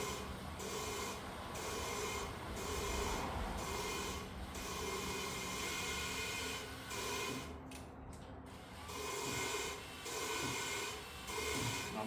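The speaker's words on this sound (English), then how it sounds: "I'm going to attach the drill. Let's go ahead and grind on it a little bit." An electric drill grinds steadily on a 454 cylinder head, cleaning it in repeated long passes with brief pauses, a continuous rasping whir up close.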